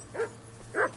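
Two short barks from Mutt, a dog in Kingdom Come Deliverance 2, spaced about half a second apart, moderately close and clear over quiet game ambience.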